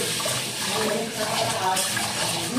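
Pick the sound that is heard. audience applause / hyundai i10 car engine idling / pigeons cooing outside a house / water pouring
water pouring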